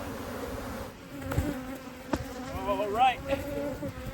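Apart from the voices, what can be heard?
bees buzzing around hive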